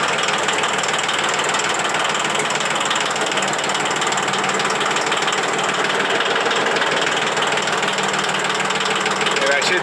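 While a backyard is being cleared, a loaded vehicle engine labors in low gear with a steady, rattling, clattering drone that stays loud and unbroken, and someone speaks over it.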